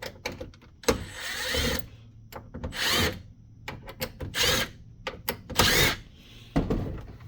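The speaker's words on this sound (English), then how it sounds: "And I'm using my big drill, so this might be a little loud." A power drill whirs in short bursts, loud and close, backing out screws from a Samsung 713N LCD monitor with clicks and rattles between each run.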